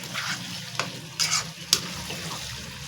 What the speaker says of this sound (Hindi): उसके साथ इसमें चिकन वगैरह डाल के ना उसको अच्छे से फ्राई करें